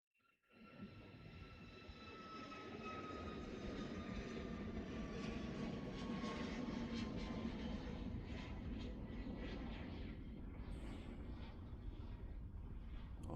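A Southwest Airlines jet passes at San Jose airport, its engine roar swelling in quickly and holding as a broad, steady rumble with faint whining tones above it.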